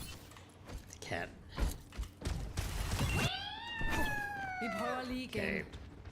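A cat in a video game lets out a long, drawn-out, wavering meow, close and clear, after several seconds of thumps and clatter with a voice talking.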